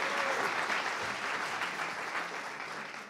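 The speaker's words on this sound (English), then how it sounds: "So let's give a round of applause to Jenny." A round of applause from the audience at a winter solstice gathering, steady dense clapping that stays fairly faint and slowly tapers off.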